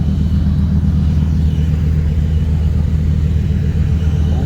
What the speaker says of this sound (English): Lambo.